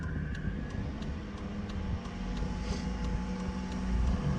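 Chevrolet Avalanche engine droning steadily as it is given gas while climbing a small hill, a continuous low rumble heard from inside the cab, with no talk over it.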